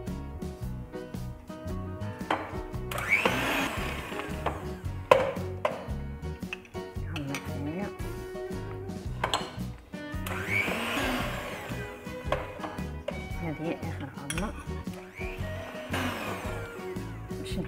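An electric mixer whirs steadily as it beats butter, sugar and eggs for a marble cake. The motor hum swells and dips as the beaters work through the batter, with a few clinks against the bowl and no talk.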